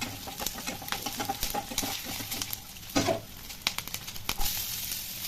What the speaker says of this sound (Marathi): मोहरी तडतडली की जिरं घालायचा, कढीपत्ता, मिरची, शेंगा चांगलं एकजीव करून घ्यायचं.